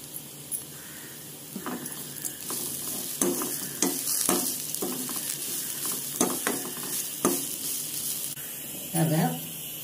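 Curry leaves and asafoetida sizzle and fry in hot oil in a pan, a steady crackling hiss broken by scraping and stirring knocks, with a voice speaking over it at times.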